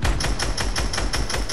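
Gunfire from a gun in a shooter video game, a fast steady automatic burst of evenly spaced sharp shots, loud and close, with no talk over it.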